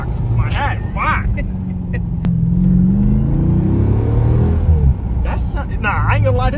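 A Jeep SRT with its resonators removed revs up, the exhaust rising to a loud, throaty roar and falling back, with people talking briefly before and after.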